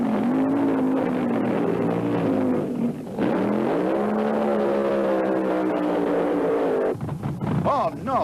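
Kenny Safford's Mr. Norm's Dodge drag car taking off on a solo run at the 1975 IHRA Pro Am Nationals in Rockingham, NC: a loud, sustained engine roar whose pitch climbs and shifts, with a brief dip partway through.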